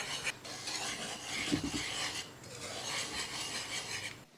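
Coated chicken wings tossed and mixed by hand in a bowl for KFC-style hot wings, a steady wet rasping and rubbing that rises briefly in the middle, close and alone.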